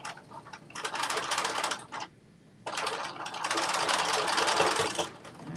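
A home sewing machine stitches a Carmen top across bulky meeting seams with a fast, steady mechanical rattle, pausing briefly midway before running on at full speed.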